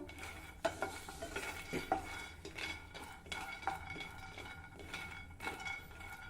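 Peanuts dry-roast in a pan over a low gas flame while a spoon stirs them, producing quiet, scattered scrapes, soft rattles and light metallic clinks at an irregular pace, with no voices.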